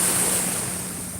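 Sea waves wash steadily on a shore at sunset, with mountains nearby, as a constant close hiss of surf with light wind noise and no voices.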